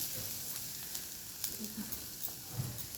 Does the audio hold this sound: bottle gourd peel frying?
yes